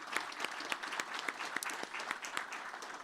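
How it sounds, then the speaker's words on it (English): A conference audience applauds a panel on California's energy transition and agriculture, with moderate, fairly sparse clapping and distinct individual claps over a few seconds, heard at some distance. "let's give that panel another round of applause."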